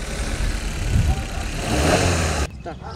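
A 2017 Maruti Suzuki Baleno petrol car engine in clean condition runs steadily with a low mid-range hum for about two and a half seconds, then cuts off abruptly into near silence.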